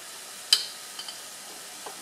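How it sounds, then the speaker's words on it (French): A spoon stirs rice and chicken with curry powder in a pan, giving one sharp scrape followed by a few soft clinks over a faint, steady sizzle, close by with no talking. "Dans un mouvement circulaire, on mélange."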